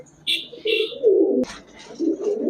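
Giribaj high-flyer pigeons coo softly up close in throaty bursts, with higher chirps early on and a sharp click in the middle, at a pigeon shop.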